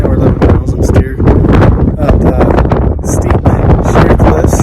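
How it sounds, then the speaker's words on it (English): Gusty wind buffets the microphone at an evening camp in the Italian Dolomites, a loud continuous low roar with rustling bursts and no clear pauses, close and dominant throughout. "it's a little windy tonight"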